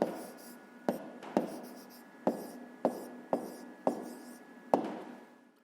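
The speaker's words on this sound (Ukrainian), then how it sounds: "Отже, записуємо тоді відповідь." A pen taps and scratches on paper at close range while an answer is written by hand, making a series of about eight sharp strokes, each followed by a short scratchy trail.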